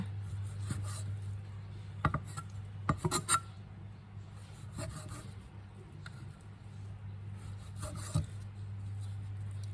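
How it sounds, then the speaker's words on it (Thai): A knife slices pork into strips for lemongrass fried pork, giving soft scraping and rasping strokes with a few sharper knocks against the board, heard close over a steady low background hum. "แล้วก็มาตัดแบ่งให้เป็นชิ้นนะคะ เป็นเส้นค่ะ"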